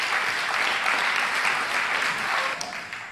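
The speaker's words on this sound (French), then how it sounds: "applaudissons quand même pour cette parole" A church congregation claps together in a steady, dense burst of applause that carries on for a few seconds before beginning to thin out, with no one speaking over it.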